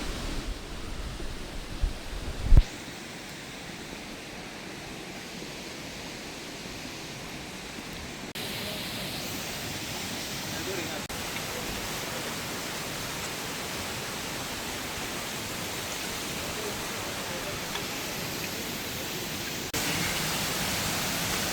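A waterfall in the Varzob Valley of Tajikistan roars as a steady, broadband rush of falling water, close and constant after a brief thump near the start, with no voices over it.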